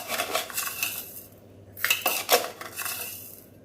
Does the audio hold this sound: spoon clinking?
yes